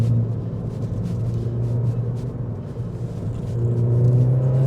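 A Ford Fiesta ST engine pulls hard in second gear on budget front tyres that struggle for grip, a steady loud rumble that rises toward the end.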